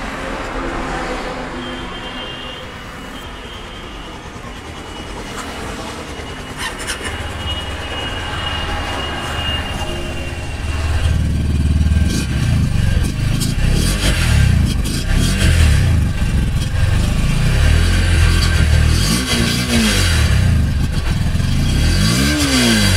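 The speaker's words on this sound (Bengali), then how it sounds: "তো এবার শুনবো আমরা বাইকের সাউন্ডটা" A Honda CB200X motorcycle engine, heard first as a low background hum that swells around the middle into a louder, steady idle with a few revs, close by and running alone without talk.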